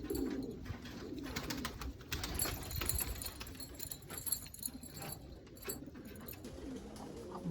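Several pigeons coo in soft, repeated throaty calls amid background clatter and a faint jangle, moderately close and without talk.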